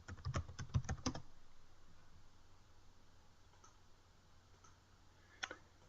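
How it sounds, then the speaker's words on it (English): A burst of rapid keyboard typing on a computer keyboard, entering a search term, with quick clustered clicks over the first second, then quiet room hiss and a single faint keystroke near the end. "I'm going to click in the search and type resistor."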